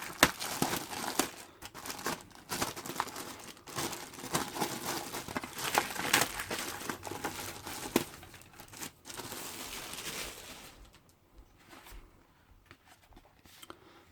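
Plastic packaging of a Fujitsu Siemens LX850 Nordic edition wireless keyboard set being torn open and crumpled, continuous close crinkling and ripping for about ten seconds before tapering off, with no talking.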